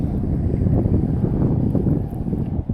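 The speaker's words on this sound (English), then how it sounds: "Wind is picked up." Strong wind rushing over open water around a fishing boat, a dense low roar buffeting the microphone continuously with no talk.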